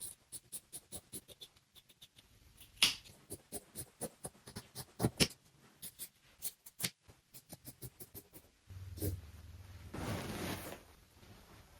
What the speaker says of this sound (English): I'm going to start by cutting off the sleeves